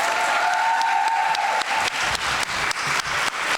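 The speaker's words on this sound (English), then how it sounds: "I would like you to give a big hand and of applause to Shankari from Tamil Elam." Steady applause from an audience at the opening ceremony of the CONIFA Women's World Football Cup 2024 in Glasshuset, Bodø, a dense continuous wash of clapping lasting throughout with slight pulses in volume.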